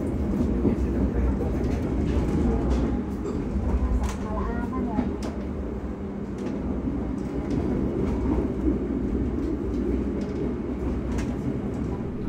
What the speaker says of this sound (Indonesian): kereta api Taksaka diberangkatkan dari stasiun Yogyakarta